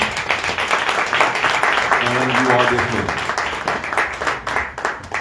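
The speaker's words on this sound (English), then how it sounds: "let's give our panelists a round of applause" Audience applause for a panel at a Monday night politics forum in Dallas, steady clapping throughout with a voice speaking over it.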